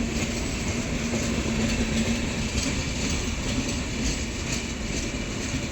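A passenger train runs at night with a loud, continuous rumble and wheel clatter on the rails, steady throughout with no voices.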